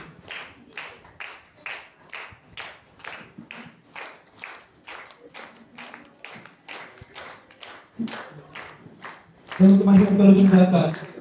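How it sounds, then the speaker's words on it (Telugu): Church anniversary audience breaking into a brief burst of clapping near the end, following a stretch of rhythmic taps or slow claps under a speaker's voice; the final applause is loud and dense. "అందరూ కూడా చప్పట్లు కొడదామండి."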